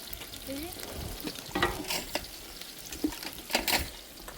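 Khichuri being stirred in a large pot for an outdoor picnic cook-up, a ladle scraping and churning through a sizzling mass in bursts, with faint voices and background chatter nearby.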